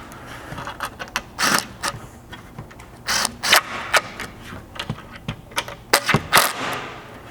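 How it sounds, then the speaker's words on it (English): Hex key tightening side mounting hardware on a roof rack of a first-generation Toyota Sequoia, a series of sharp close metallic clicks and ratcheting taps in irregular bursts, fairly loud with no talk. "with a 5/32 hex, you can tighten up this side mounting hardware"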